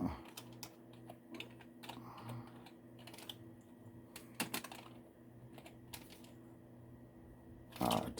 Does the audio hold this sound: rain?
no